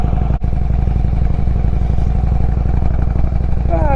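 V-twin motorcycle engine running steadily while riding, a loud close pulsing drone with regular firing beats throughout and one brief dip near the start.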